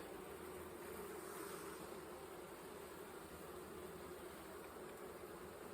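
Honey bees crawl over a hive frame, giving a steady, dense, faint buzzing that holds evenly throughout with no voices.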